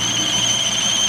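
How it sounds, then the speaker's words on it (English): Car engine idling after an oil top-up, with a worn belt tensioner squealing: a steady high-pitched whine of two sustained tones over a low engine rumble, continuous and close. "it sounds like we've got a tensioner squealing like crazy"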